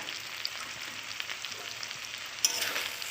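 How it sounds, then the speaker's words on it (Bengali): Prawns fry in a pan with spice paste, making a soft, steady sizzle with light stirring scrapes throughout and a brief sharper clatter near the end. "একটু নেড়ে চেড়ে নেব মশলার সাথে"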